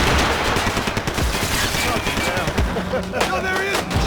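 Gunfire in the video game Max Payne 3, a dense, loud burst of rapid shots and bangs filling the clip, with shouted voices mixed in amid the chaotic firefight.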